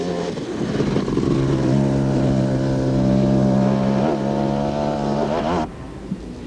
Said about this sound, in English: Jeremy Davies rode standing up to relieve the weight at the rear of the Truck Africa KTM